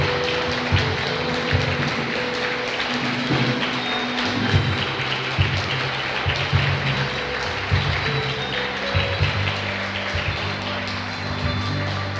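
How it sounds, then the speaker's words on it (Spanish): Congregation applause in a church, a dense, steady wash of clapping that holds at a constant level for about twelve seconds without pause. "Dale un aplauso a Jesús."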